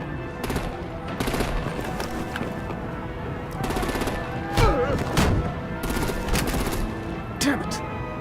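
Artillery and automatic gunfire in the video game Batman: The Enemy Within, a series of loud, rapid bursts and sharp cracks across the clip, with a heavier blast midway and voices mixed in among the shots.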